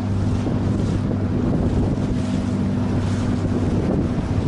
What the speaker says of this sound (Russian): Хотя теплый ветер.